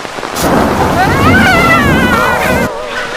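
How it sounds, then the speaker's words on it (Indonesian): A burst of heavy rain with a rolling rumble of thunder, loud and close, swelling for a few seconds and then cutting off abruptly; a voice may be faintly present beneath the downpour. "Hari hujan mau pulang."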